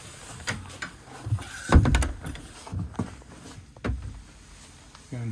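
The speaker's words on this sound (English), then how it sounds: "Again, privacy door." A privacy door aboard a 58ft Black Prince cruiser-stern narrowboat is handled in a bathroom, giving several close knocks and thuds with one loud clunk near the middle, followed by a brief sliding rattle at the end.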